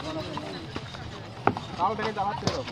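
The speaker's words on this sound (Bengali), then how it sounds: "এখন আপনারা দেখছেন ঘোড়ার গাড়ি।" Hooves of a horse pulling a carriage clip-clop in a few sharp, uneven knocks, heard amid a busy outdoor background with voices murmuring.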